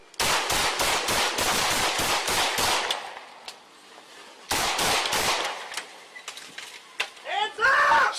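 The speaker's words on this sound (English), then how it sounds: "Shots fired!" A fatal police shooting by a Dallas officer, with rapid bursts of loud, close gunfire in two volleys separated by a pause, followed by shouting voices.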